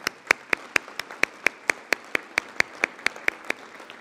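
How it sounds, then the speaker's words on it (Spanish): Slow, evenly spaced clapping at an award ceremony, about four claps a second, each sharp and distinct over a quiet room, sounding like one or a few people keeping a steady beat rather than a full ovation. "Para final, un aplauso."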